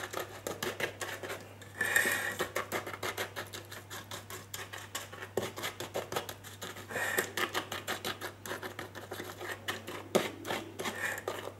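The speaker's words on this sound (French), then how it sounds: "avec une cuillère, je vais tapisser le fond du moule." A spoon taps and scrapes a speculoos and butter crumb base into a cake mould, giving quick clustered clinks and pattering knocks, fairly close and moderately loud with a steady low hum underneath.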